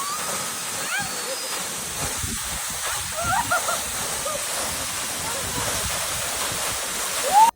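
A steady rushing roar of falling water fills the scene, constant and fairly loud, with a brief sharp squeak near the end.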